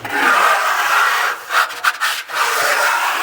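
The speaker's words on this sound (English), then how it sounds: "use my trowel, make sure that there's no boogers or anything that got caught in the primer" A trowel scrapes steadily across a primed custom range hood beam, a close, loud rasping rub that breaks into a few short strokes toward the end.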